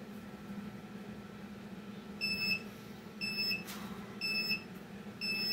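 A workout interval timer gives a series of short electronic beeps, four evenly spaced bursts about a second apart, faint over a steady low room hum.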